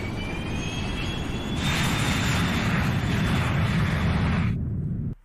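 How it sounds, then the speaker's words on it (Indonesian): An airliner roars during takeoff, a loud sustained jet engine rumble with a rising whine that swells midway and then cuts off abruptly at the end. "Setelah pesawat sudah lepas landas"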